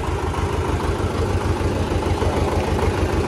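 A modified Russian-made Belarus 75 HP tractor engine idles steadily, a low, even diesel rumble with a fast regular throb, close and continuous with no other sounds.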